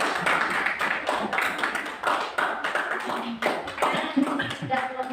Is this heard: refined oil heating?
no